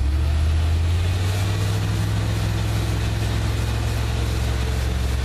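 Truck engine held at raised revs while bleeding the cooling system, a loud, close, steady low engine drone with no speech.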